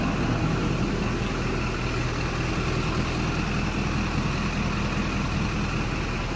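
A warmed-up LB7 Duramax diesel truck engine idles in a steady, continuous low rumble heard close up with no variation.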